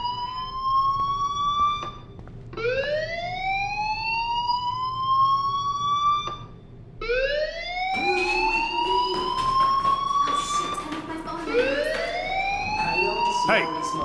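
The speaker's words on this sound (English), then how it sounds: "do you hear that fire alarm?" Electronic fire alarm in the video game Life Is Strange, wailing in repeated rising sweeps that restart after short gaps, with a voice talking underneath in the later part.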